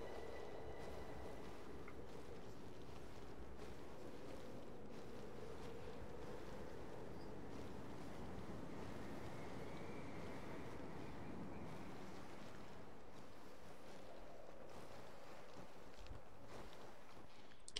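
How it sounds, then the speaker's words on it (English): Steady snowstorm wind howls and roars in a cold, whiteout mountain landscape in the video game Journey, a continuous broadband rush with slow gusty swells and no voices. "It's really cold and windy."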